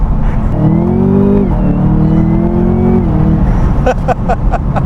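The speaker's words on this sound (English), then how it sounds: "That literally spun through 4 gears." A Chevrolet Camaro ZL1 accelerating hard through the gears from inside the car, loud engine pitch climbing with brief dips at each shift, followed by rapid sharp bursts.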